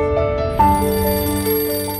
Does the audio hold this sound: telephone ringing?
yes